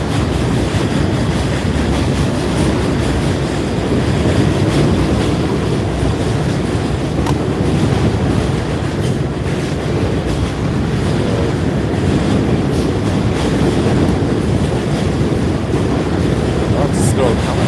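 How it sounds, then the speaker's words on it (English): A long, steady rumble of a passing train, continuous and loud throughout with no break, carrying a roaring, wind-like wash of noise. "That's a very long train."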